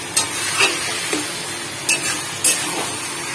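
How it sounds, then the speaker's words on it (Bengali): Taro leaves (kochu shak) stirred in a hot pan with a steady sizzle underneath and several sharp scrapes of the spoon against the pot at uneven intervals, close and clear with no talking. "আগে কচু শাক রান্না করছি"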